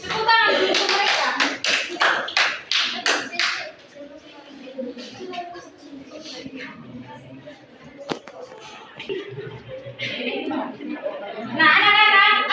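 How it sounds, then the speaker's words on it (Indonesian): Children in a maths classroom clap their hands together in a loud burst of rapid, uneven applause that fades into chatter and movement, with a second short round of clapping near the end. "Tepuk tangan untuk mereka"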